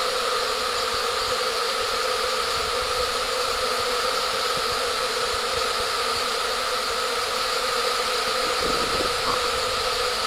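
A huge swarm of honey bees in flight, a continuous dense buzzing drone holding steady and close for the whole stretch, with no talking.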